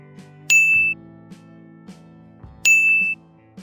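Bright ding sound effect for an animated subscribe button, two clear bell-like pings about two seconds apart over faint soft clicks and a low tone, heard alone.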